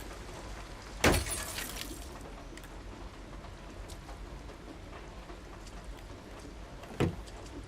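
Two sharp, loud crashes of a car window being smashed in the video game Detroit: Become Human, one early and one near the end, over a steady hiss of falling rain.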